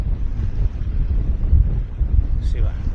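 Gusty wind buffets a microphone aboard a boat sailing downwind on the Caledonian Canal, a low, close rumble that swells and eases unevenly throughout.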